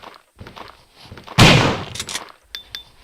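A loud, close shotgun blast in the Resident Evil video game, fired at a zombie, stands out sharply from quieter game ambience and footsteps and decays over about half a second.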